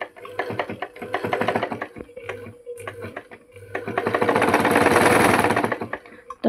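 Motor-driven sewing machine stitching through fabric or paper, a loud steady mechanical chatter with a low motor hum that pauses briefly, restarts, then runs in a long continuous burst.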